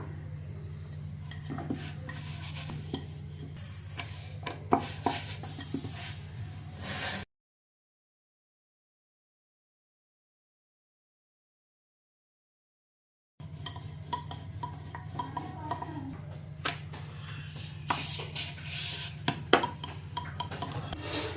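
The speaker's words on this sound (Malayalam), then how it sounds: "ഇങ്ങനെ എല്ലാ മാവും പരത്തിയെടുക്കാം" Chapati dough is rolled out with a rolling pin, giving soft rubbing strokes and light wooden knocks, quiet and close, with a stretch of complete silence partway through.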